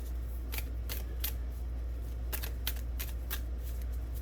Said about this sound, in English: let's go ahead and pull some additional cards here